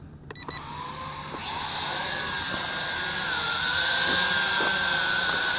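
An FQ777 FQ02W folding FPV camera drone spins up and lifts off, its high rotor whine starting after a few clicks and rising steadily in pitch and loudness as it climbs nearby.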